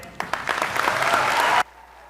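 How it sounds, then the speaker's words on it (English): A commencement audience bursts into applause for a graduating class speaker, the dense clapping building and sustaining for over a second before cutting off abruptly to a quiet room. "Let's give her another round of applause."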